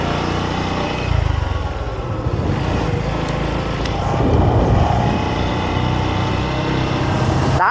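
A 150cc motorcycle rides at speed on a road in Saudi Arabia, its engine droning steadily under rushing wind noise, loud and close for the whole stretch.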